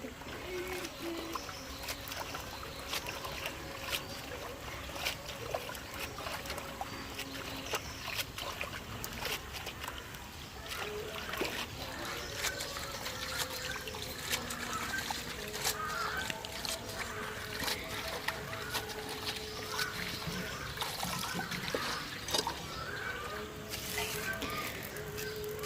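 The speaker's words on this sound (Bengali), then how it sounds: "পাতাগুলো এখন ধোয়ার জন্য নিয়ে আসলাম, আর এই তো এখন ধুয়ে নিচ্ছে আমার বোন।" Thankuni (Indian pennywort) leaves are washed by hand in water in a village kitchen setting, with continuous soft splashing and trickling that lasts throughout.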